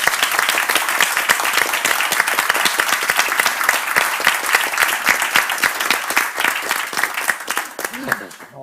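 A seated audience bursts into sustained, loud applause at a conservative political event, dense clapping holding steady for several seconds before thinning out near the end.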